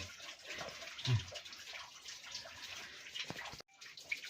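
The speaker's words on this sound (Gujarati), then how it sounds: "જે પાણીનો અવાજ આવે એ અહીંયાથી અવાજ આવે છે" Water runs steadily inside an old cave, a fairly faint, continuous wash with a brief dropout near the end and no voices.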